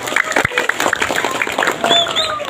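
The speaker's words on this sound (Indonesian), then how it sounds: "Tepuk tangan untuk Indonesia." Scattered applause from a crowd at a Sundanese religious sermon gathering in a village, claps rising briefly alongside some talk and noise.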